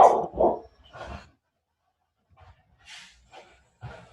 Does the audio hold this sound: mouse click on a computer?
no